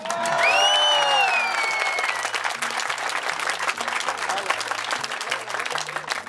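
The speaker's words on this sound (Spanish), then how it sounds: "queremos escuchar el aplauso de la soledad para la soledad." Crowd applause rings out at an outdoor community gathering in Zaachila, a loud steady clatter of many hands lasting several seconds, with a voice briefly audible over the start.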